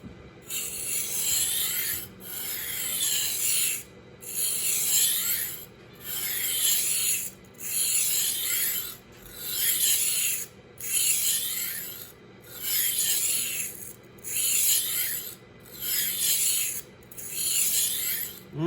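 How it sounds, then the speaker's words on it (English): A knife blade is drawn across a Tumbler rolling sharpener stone in a steady rasping rhythm, about ten even strokes separated by brief pauses, close and alone. "This is the sharpening stone, and this is the polishing honing stone."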